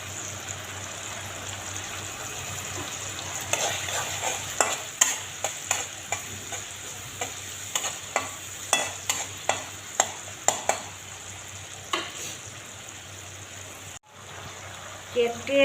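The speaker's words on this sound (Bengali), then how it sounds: "এবার দিলাম সাদা সরষে।" White mustard seeds crackle and pop in hot frying oil in a home kitchen pan, with a steady sizzle and a string of sharp spatters and stirring scrapes, moderately close and alone.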